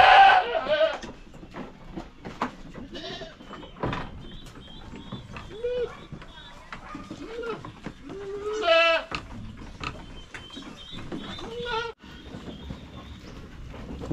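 Native goats bleat repeatedly at a moderate distance, with several calls scattered among rustling and soft footsteps.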